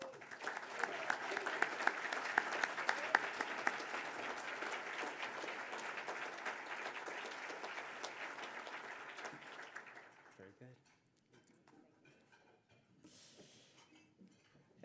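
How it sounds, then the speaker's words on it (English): Sustained audience applause at a climate leadership awards ceremony, steady and full for about ten seconds before fading into quiet room noise and faint voices. "Let's give a round of applause."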